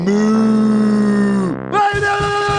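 A voice imitates a cow's moo as a loud, close, drawn-out lowing call held for over a second, then breaks off into a rougher, grunting second call.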